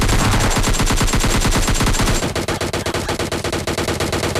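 PUBG Lite gameplay gunfire: loud rapid automatic bursts crack out in a dense rhythm, then shift to a slightly thinner, evenly spaced stream of shots from a second weapon, no voices.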